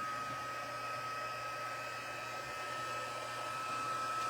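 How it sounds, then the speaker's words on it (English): A heat gun blows hot air continuously for craft embossing, a steady close whooshing hum with no talk. "I'm turning on my heat gun to heat up a little bit"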